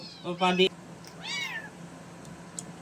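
A small rescued kitten gives a couple of close, high-pitched meows in a quiet room, one short cry followed by a longer wavering one.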